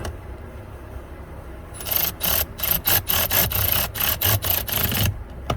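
An electric ratchet working underneath a car on a blower fan: after a quiet start, a quick series of harsh, rasping bursts with short pauses between them, close and fairly loud.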